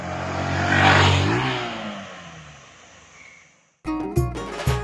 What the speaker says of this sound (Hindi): ये लोकेशन में अभी हम रेविंग करने वाला है